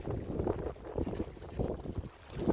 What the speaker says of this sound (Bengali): প্রচুর পরিমাণ বাতাস এবং তুফান।